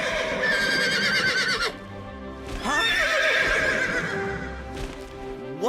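Cartoon neighing of Pegasus, the winged horse, with two long whinnies rising and falling close up, separated by hoofbeats and a low snort.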